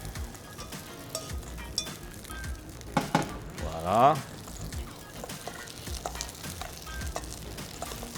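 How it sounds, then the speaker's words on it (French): Dried shrimp and peanuts sizzle in a pan for a Thai salad, producing a steady, close frying crackle with a brief louder stir, while a person speaks briefly over it. "Sentez le petit grésillement."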